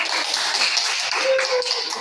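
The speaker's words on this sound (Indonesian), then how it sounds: "Oke, kita tepuk tangan dulu." Classroom students clapping after a group presentation, a steady dense patter of many hands applauding throughout, moderately loud.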